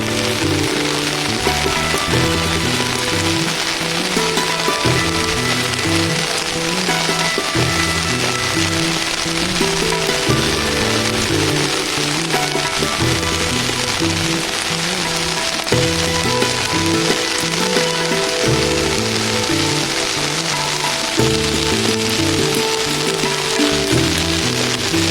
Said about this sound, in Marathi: रत्नागिरीसह जिल्ह्याच्या विविध भागात अवकाळी पावसानं हजेरी लावल्यामुळे वातावरणात गारवा निर्माण झाला आहे